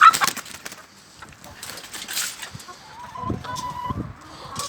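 Plymouth Rock chickens cluck in short, scattered bursts near a backyard coop where quail are kept, with soft rustling between calls and a faint voice at times.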